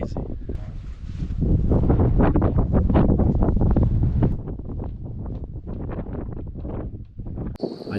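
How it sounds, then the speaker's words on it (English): Strong wind gusts across an open field near an irrigation tire during rifle season, buffeting the microphone in loud, rumbling roars that swell and ease without a break. "This wind is crazy."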